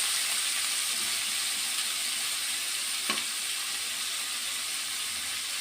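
Ridge gourd peel frying in a pan, giving a steady broad sizzle and hiss throughout with a brief stir near the middle and no voices.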